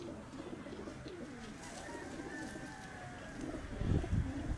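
Pigeons on a rooftop in Gujranwala make soft, low cooing murmurs at a moderate distance over faint background noise, growing slightly louder near the end, with no talk.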